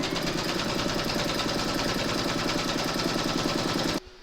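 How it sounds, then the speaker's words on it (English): An embroidery machine stitches a placement outline for batting on an in-the-hoop patriotic bunting project, making a rapid, even, mechanical needle patter that runs loud and close throughout before stopping abruptly near the end. "you're going to stitch round number 1, and that's going to give you your placement outline for your batting."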